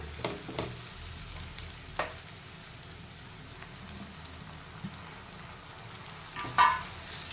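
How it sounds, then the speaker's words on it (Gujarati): Chopped tomatoes added to onions frying in a pan for bottle gourd pav bhaji, a gentle steady sizzle with a few soft clinks and stirring scrapes, one louder clatter near the end. "હવે ડુંગળી થાય એટલે આપણે ટમેટાં એડ કરી દેવાના."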